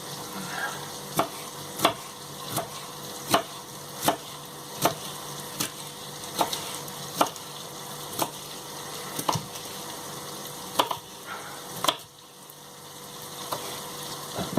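Chopped vegetables for a bolognese-style sauce fry in a pan with a continuous sizzle, steady stirring and repeated utensil knocks roughly every second, close and without speech.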